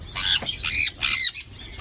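Caged birds squawk in harsh, loud, close bursts, four or five rapid calls in an uneven rhythm.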